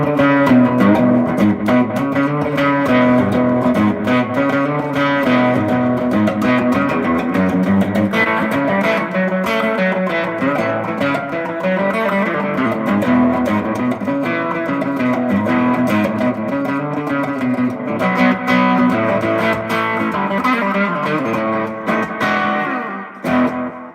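A distorted electric guitar plays continuously with a quick slapback echo doubling each note, loud and upfront for the whole stretch.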